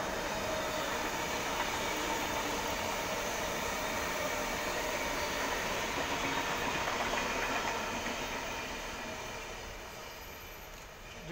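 A Sydney Waratah electric train passing, a steady loud rumbling rush of wheels and motors that fades gradually toward the end, heard alone without talk.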